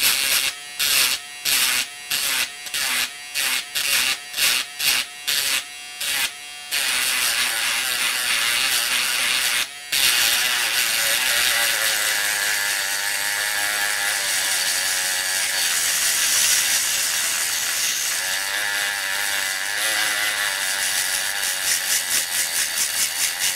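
A spinning felt piece polishes the shuttle of a Versal mending sewing machine. It starts as evenly spaced mechanical whirring bursts, then becomes a continuous buzzing grind after a brief pause.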